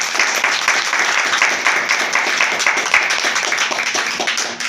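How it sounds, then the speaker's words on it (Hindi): An audience at a seminar applauding for seniors, a loud and sustained burst of many hands that stays dense and steady throughout, then tapers slightly at the close. "हर कोई अपने अपने सीनियर के लिए ताली बजा के हम धन्यवाद देंगे"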